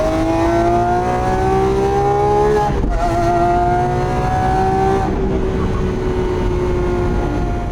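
A Lamborghini 6.5-liter V12 with an aftermarket exhaust revs loudly and close, its pitch climbing in two sustained pulls with a brief lift between them, then settling into a rumbling idle.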